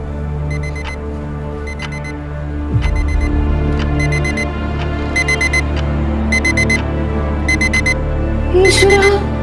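A timepiece alarm clock rings repeatedly indoors, sharp grouped electronic beeps recurring at a steady rhythm over a constant low hum, with a thump partway through and no one speaking.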